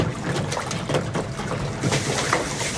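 Water pours steadily into a tub packed with ice for an ice bath, a dense continuous splashing rush close to the mic with no break.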